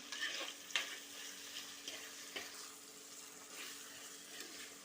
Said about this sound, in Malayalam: ഇനി തക്കാളി നന്നായിട്ട് വഴന്നു വരുന്ന വരെ ഒന്ന് വെയിറ്റ് ചെയ്യണം